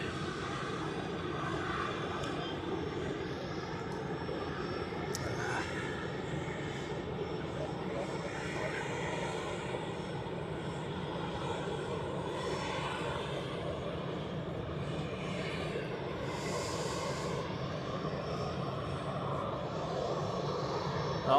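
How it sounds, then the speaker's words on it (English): Jet aircraft at Zurich Airport on a freezing rush-hour morning, a steady distant engine roar that holds through the stretch and swells slightly near the end, with a voice talking over it now and then. "The Delhi flight is on the runway."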